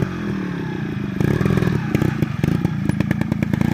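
A dirt bike engine revving as it rides, a buzzing, rasping drone that steps up into rapid choppy pulses partway through; close and fairly loud.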